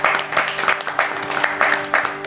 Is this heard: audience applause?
yes